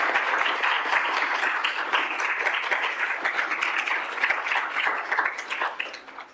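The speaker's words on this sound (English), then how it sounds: "Could we have a round of applause for 2 special guests?" An indoor audience applauds two special guests at an academic event on death penalty abolition, a dense, sustained burst of many hands clapping that stays strong before tapering slightly at the end.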